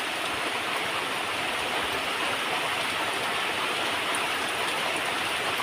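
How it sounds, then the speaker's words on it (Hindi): Heavy, steady rain pours without a break, a dense roaring hiss of water filling the whole clip with no voices. "क्या इतना जोर से हमेशा बारिश होती है यहाँ?"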